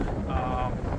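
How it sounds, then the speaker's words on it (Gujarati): Wind gusting steadily at Deception Bay, a broad low roar with microphone buffeting close in, filling the whole moment without pause. "એકદમ અત્યારે પવન છે મસ્ત, બરાબર. પવન સારો છે ભાઈ, પવન એક નંબર."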